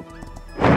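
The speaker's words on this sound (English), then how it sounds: "Another bond, because I'm riding my horse." A horse in the video game Star Equestrian lets out a loud, close whinny while being ridden. It comes near the end, after a quieter stretch of faint background game sounds.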